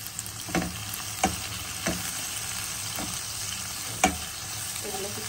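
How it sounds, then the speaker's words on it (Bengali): Cumin seeds, cinnamon sticks and cloves frying in a pan give a steady low sizzle, with a few soft scrapes from a stirring spoon spread through the clip. "এগুলো কিছুটা ভালোভাবে ভেজে নেব,"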